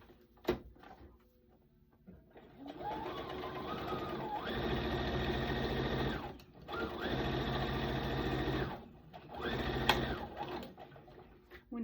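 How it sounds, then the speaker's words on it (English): A sewing machine stitches a seam around a fabric piece, running in two long sustained bursts with a brief pause between, steady whirring mechanical hum close to the microphone, with no talking. "So you take it to the sewing machine and sew."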